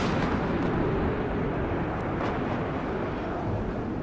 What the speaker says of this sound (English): More air engagements going on as rocket artillery comes in.